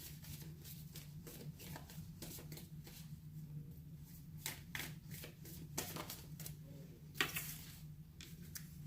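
Tarot cards are shuffled and drawn close by, a quiet run of soft riffling flicks and taps over a low hum, with a sharper slap near the end.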